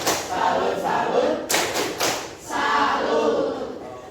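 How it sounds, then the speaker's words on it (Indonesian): An audience performs a rhythmic 'tepuk salut' clap in a classroom lesson, with several short bursts of group clapping and chanting that are loud and close, followed by a voice speaking. "Kasih tepuk salut."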